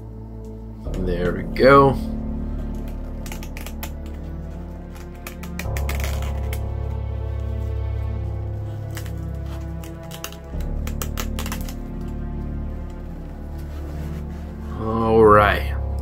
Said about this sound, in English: let's go ahead and crack the seal on this for the very first time and check it out